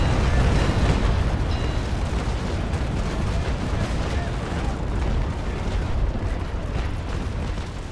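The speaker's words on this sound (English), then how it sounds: "Second broadside." Rolling cannon broadsides from an age-of-sail ship in a naval combat video game, a dense continuous roar of booming gunfire and explosions that stays loud throughout the clip.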